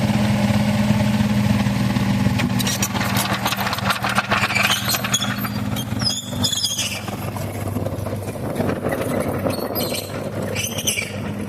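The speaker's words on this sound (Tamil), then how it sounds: "கொஞ்ச நேரம் அங்கே மண்ணு தள்ளுறோமாமா, வண்டி போகுது பார்க்கலாம்." A Tata Hitachi 33U excavator's diesel engine runs steadily while pushing soil, a loud close drone with squeals and clanks rising over it partway through.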